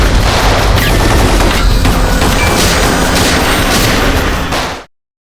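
Dense, loud gunfire from a police crime drama shootout rattles nonstop in a chaotic barrage of overlapping shots and booms, then cuts off abruptly into silence.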